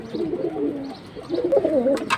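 A high-flying flyer pigeon coos in low, rolling, throaty phrases, close and fairly loud, with a brief pause midway and no talking.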